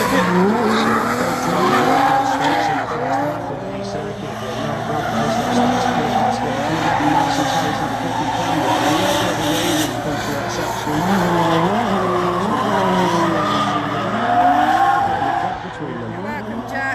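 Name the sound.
drift cars initiating and drifting through a circuit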